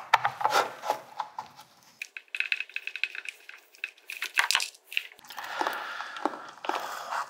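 Screws are turned out of a Stratocaster pickguard, giving close scraping, rubbing and creaking wood-and-metal sounds in short irregular bursts.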